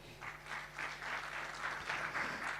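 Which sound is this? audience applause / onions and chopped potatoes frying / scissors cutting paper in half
audience applause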